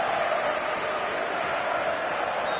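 A stadium crowd at a Milan match roars in a steady, dense wall of cheering and noise that holds at an even level throughout.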